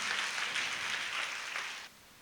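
Audience clapping at a prayer meeting, a steady wash of hand claps from a crowd lasting about two seconds before abruptly dying away, moderately distant and alone without talk.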